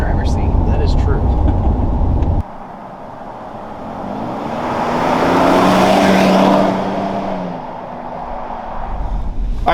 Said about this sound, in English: I got to see what it does on takeoff